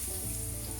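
Garlic and onion frying in olive oil in a wok for a tomato and egg sauce, a steady close sizzle with faint crackle and no talk.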